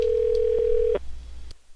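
A steady telephone line tone hums for about a second before cutting off abruptly with a click, followed by a faint line beep and quiet.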